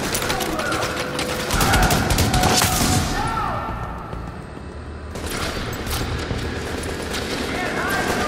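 Sustained machine gun fire rattles in The Division's Times Square firefight, with dense rapid bursts and explosive booms, loudest early then easing before resuming, under a voice.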